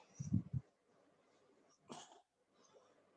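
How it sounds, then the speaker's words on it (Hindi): A person coughs a few times up close, a short cluster of sharp coughs followed by another rough cough, with quiet breathing between. "बोलते बोलते खांसी आती है बहुत।"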